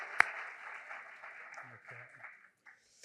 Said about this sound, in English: I hope we just give them a round of applause just for even making it here